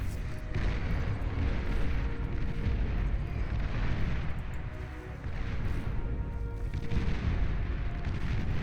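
Artillery and missile fire rumble through a Beyond All Reason 4v4 deathmatch, a dense, continuous low roar of distant booms and launches that barely lets up, with some commentary talk faintly beneath it.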